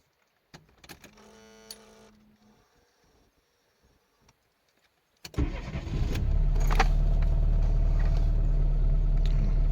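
A Slavuta or Tavria car engine starts after a few seconds of faint whirring and clicking, then settles into a steady, close idle that continues to the end.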